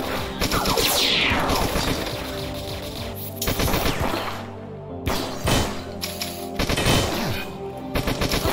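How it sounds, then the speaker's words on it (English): Energy pistol charge shots in a video game, loud repeated blasts and crashing impacts over a dense, continuous game soundscape, with several distinct bursts spaced a second or two apart. "Charge shots for your energy pistol can break shields."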